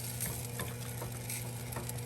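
Bacon fat and flour sizzle in a pan while a utensil scrapes up the browned fond for a Renaissance chicken offal dish; dense steady frying hiss with repeated scraping strokes, close up and without talk.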